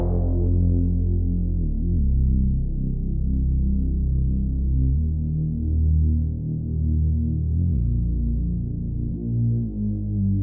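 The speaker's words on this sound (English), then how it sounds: "Here's the bass during the chorus. You'll notice it's playing very legato" A legato synth bass line from the chorus of a song holds deep, smooth sustained tones that glide from note to note without breaks, steady and loud, with no voices.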